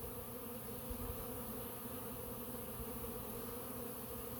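A dense swarm of honey bees works around a hive in an apple orchard, their steady, full buzzing drone filling the air close by and unbroken, with no talk.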